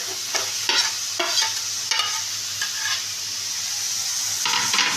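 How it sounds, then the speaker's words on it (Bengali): Potatoes and eggplant are stirred into fried spice paste for a Bengali Rupchand fish curry, giving a steady sizzle with several scraping stirs of the spoon against the pan. "দিয়ে মশলার সাথে আলু আর বেগুনটাকে ভালো করে আমি মিশিয়ে নিচ্ছি।"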